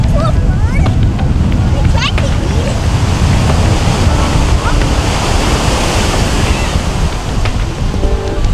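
Ocean surf breaks and washes continuously along the La Jolla coastline, heavy and loud with wind buffeting the microphone and a few faint bird cries riding on top.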